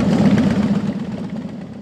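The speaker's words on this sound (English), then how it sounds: "About 50 motorcycle riders representing the Rolling Thunder organization arrived to present the POW MIA flag." Motorcycles of Rolling Thunder riders arriving at Fort Meade for a POW/MIA observance, a steady close engine rumble that idles and fades slightly, with no voices.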